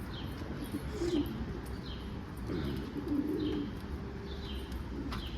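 A pigeon coos in a garden, a runaway black pied homing pigeon landing among the birds, with soft repeated coos over a steady outdoor background and faint chirps, no voices.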